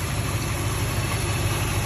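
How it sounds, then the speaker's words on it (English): A 1957 Chrysler Windsor hardtop's 354 Spitfire V8, sharing the Hemi block, idles with a steady low rumble and constant loudness, heard close up with no talk. "This is a Chrysler Spitfire."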